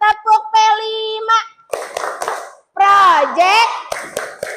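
A primary school class claps out a rhythmic P5 cheer, children chanting together between sharp claps, near and loud, led by a teacher's voice.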